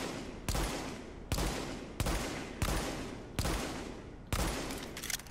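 Sniper rifle fire in the video game The Division: six heavy, evenly spaced shots, each a sharp crack followed by a long decaying boom, loud and close with no voices.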